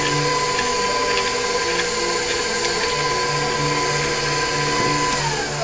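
An electric mixer beats butter, sugar and eggs for a cake batter with a steady, whirring motor drone that holds throughout and dips slightly near the end, with no talking.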